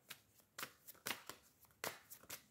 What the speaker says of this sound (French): je vais prendre encore une petite carte